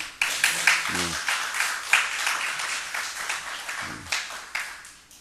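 A church congregation at Sunday worship, a children's and parents' service, applauds in a sustained wash of clapping, moderately loud throughout and fading toward the end.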